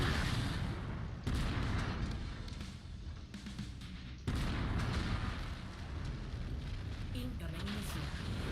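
Booming missile explosions and weapon fire rumble through a MechWarrior 5 mech battle, heavy low blasts with sharp onsets around one and four seconds, loud and sustained with a dense rumbling roar between hits.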